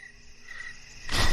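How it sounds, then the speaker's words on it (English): Crickets chirp in a thin, steady high trill under a faint background hiss, and a louder broadband rush swells in over the final moments. "Crickets."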